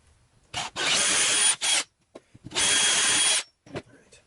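A power drill bores into a wooden wand grip in two bursts, the first about a second long and the second longer, with short pauses and small handling knocks between them.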